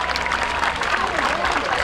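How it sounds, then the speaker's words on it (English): Spectators at a 2017 Labor Day parade in New Jersey applaud first responders, a short, dense burst of outdoor clapping and crowd noise with a faint voice mixed in. "A round of applause for them"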